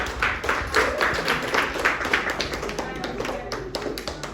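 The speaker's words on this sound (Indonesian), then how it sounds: "Beri aplaus buat Mbak Ansati" An audience claps for a presenter after a microteaching lesson, a loose burst of close-up hand claps and taps in an uneven rhythm that trails off gradually.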